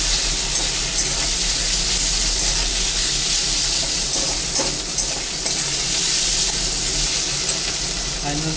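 Kolhapuri vegetable masala stirred and mixed in a hot pan, with a steady close scraping and soft sizzle running throughout, faint kitchen hum underneath, no talk.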